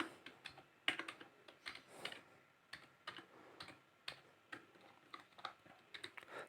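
Someone types a password on a computer keyboard while configuring Windows Server 2003, a quiet, uneven run of close key clicks with short pauses between taps.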